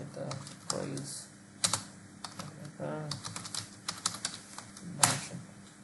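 Typing on a computer keyboard in a terminal, entering a Grails command: irregular bursts of close key clicks and clacks, with a few louder keystrokes, against a faint background hum.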